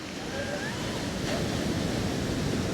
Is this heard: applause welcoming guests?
no